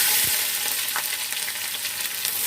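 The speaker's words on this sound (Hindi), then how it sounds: "प्याज डाल देते हैं ऑयल में।" Roughly chopped onions sizzle steadily in hot oil for chicken biryani, a continuous close-up hiss with a few soft stirring knocks and no talking.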